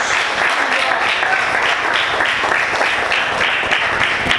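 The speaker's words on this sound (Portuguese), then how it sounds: "Você pode dar glória a Deus e aplaudir o nome do Senhor." A church congregation applauding together during a sermon, a steady, dense wash of clapping that fills the room throughout, with voices mixed in beneath it.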